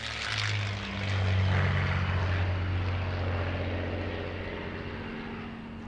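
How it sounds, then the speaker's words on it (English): A Spitfire fighter's propeller engine drones loudly and steadily on the airfield at Duxford, north of London, a rich throbbing roar that swells and then holds. "And this is the legendary Spitfire."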